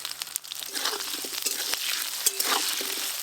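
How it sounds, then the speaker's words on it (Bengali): Diced potatoes fry in hot oil with a continuous crackling sizzle, punctuated by scraping stir clicks and a few brief bumps, close and fairly loud. "ওই একই তেলে আলুগুলো ভালো করে ভেজে নেব"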